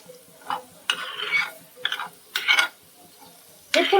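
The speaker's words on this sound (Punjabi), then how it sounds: "ਹੁਣ ਇਹਦੇ ਵਿੱਚ ਪਾਉਨੇ ਆ ਆਪਾਂ ਲਸਣ ਅਦਰਕ ਹਰੀ ਮਿਰਚ ਪਿਆਜ਼ ਹੁਣ ਇਹਨੂੰ ਹਿਲਾਉਂਦੇ ਰਹਿਣਾ ਚੰਗੀ ਤਰ੍ਹਾਂ" A spoon scrapes and stirs garlic, ginger, green chili and onion in a hot pan for a pea, cream and fenugreek curry, in several separate scraping strokes with a soft sizzle between them.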